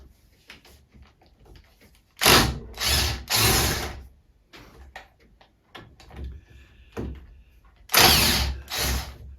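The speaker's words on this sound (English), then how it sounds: "I have to take these 1/2 inch nuts off the bottom, and then the cylinder should just come out" A ratchet wrench works half-inch nuts off the base of a cylinder on an air-powered engine, with loud bursts of rapid clicking separated by quieter handling clatter, close by.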